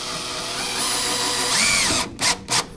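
A power drill drives screws to fasten a backlit LED sign, whirring steadily at close range, then winding down into two short final bursts as the screw seats.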